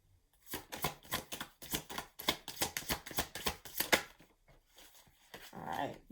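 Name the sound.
shuffling tarot cards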